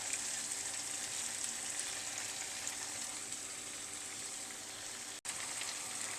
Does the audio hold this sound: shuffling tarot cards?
no